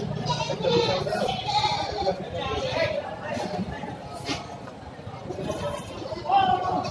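Goats bleat several times amid a busy outdoor crowd, with steady chatter and background noise running throughout.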